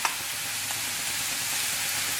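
Green chillies and curry leaves fry in hot oil in a pan for egg roast, a steady, bright sizzle with soft crackles, close and continuous with no talking.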